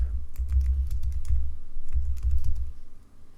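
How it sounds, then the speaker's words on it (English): Close, rapid typing on a computer keyboard, quick irregular key clacks in short bursts with brief pauses, over a low background rumble and no speech. "all you have to do is type it in"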